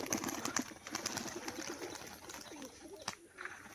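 Low, soft cooing comes from a caged breeding pair of yellow-eyed crested pigeons, a cock and a light biscuit-coloured hen. The coos are faint and partly masked by steady background hiss and noise.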